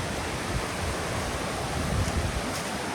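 A wide river, roughly fifty meters across, flows beside a rural land plot, a constant rushing wash of water mixed with wind buffeting the microphone, with no talk.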